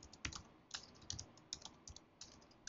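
Quiet, close computer keyboard typing while working in a terminal editor, an irregular run of light key clicks with no voices.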